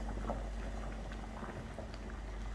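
Ogbono soup simmering in a pot: a steady low bubbling and gurgling with soft pops, continuous and fairly quiet throughout.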